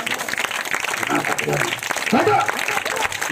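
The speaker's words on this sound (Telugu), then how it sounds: "ఇట్లా పెట్టుకోండి చప్పట్లు." A gospel meeting congregation keeps up a continuous patter of hand claps through the whole stretch, under a voice speaking over the crowd.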